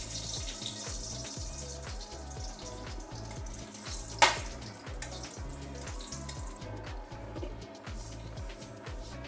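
Two dry red chillies fry in hot mustard oil for a bottle gourd chutney, giving a steady close sizzle over a low rhythmic background pattern, with one sharp click midway.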